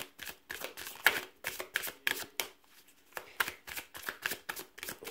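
Tarot cards being shuffled for a five-card spread make quick, crisp riffling bursts in an uneven rhythm, close and fairly quiet, with no voices.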